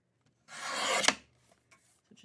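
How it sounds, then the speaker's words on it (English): One quick rasping slice through cardstock with a paper trimmer for a folded Mother's Day card, close and soft, lasting under a second and ending in a small click. "now I just need to cut it to 7/8 of an inch in width"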